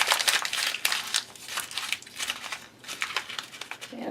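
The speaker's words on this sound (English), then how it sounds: "I'm going to take some paper and just crumple it up" A sheet of paper is crumpled up by hand to soften it for card making, producing close, irregular bursts of crinkling and crackling with brief pauses between squeezes.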